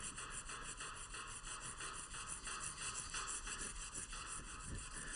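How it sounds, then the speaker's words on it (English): Hand sanding of a knife blade with sandpaper on a hard backing, pressed firmly: a steady, close, continuous rubbing rasp in repeated back-and-forth strokes, with no talk. "These sandpaper abrasives are meant, they cut best under pressure."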